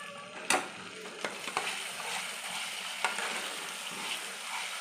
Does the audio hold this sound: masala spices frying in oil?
yes